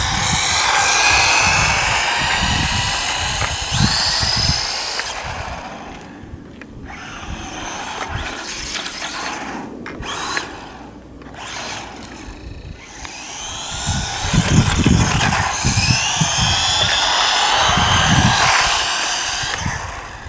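An electric Goolsky RC buggy motor screams at full throttle, a loud high whine that surges, drops back around the middle, then revs hard again, with gravelly wheel and chassis rattle underneath.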